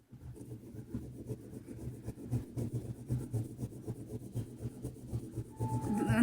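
Nutmeg rubbed against a hard surface for a baby's bal-guti, a steady close scraping rasp that goes on in short repeated strokes throughout, with no one speaking.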